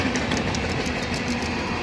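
A loud train rumbles past close by, a dense steady roar of wheels on rails with faint rhythmic clacking.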